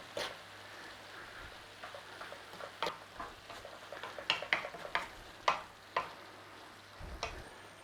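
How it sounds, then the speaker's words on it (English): Red cabbage with sugar and spices stirred in a pot, giving soft intermittent scraping and clicking spoon strokes over a faint background, with no voices. "In there with our sugar and our spices. Just give that a little mix in."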